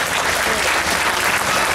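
Steady crowd applause fills a show at the 2014 Santiago fair in Zimapán, Hidalgo, a dense unbroken patter of many hands clapping at close range throughout.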